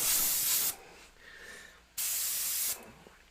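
Two short, close bursts of spray paint hit a Warhammer 40K servo skull model, each a loud, steady hiss lasting under a second, with a brief quiet gap between them.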